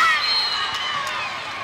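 Small but loud group of BYU fans from Provo, Utah cheering in a volleyball arena at a regional semifinal against Kentucky, a steady wash of crowd noise close behind with no clear pauses.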